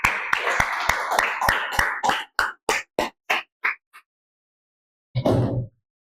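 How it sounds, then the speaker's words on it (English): Rhythmic clapping at a Toastmasters club meeting starts as a dense round of applause, then thins into slow, evenly spaced single claps that stop, followed by a short burst of sound after a pause. "I request each and everyone to give a big round of applause for each and every speaker."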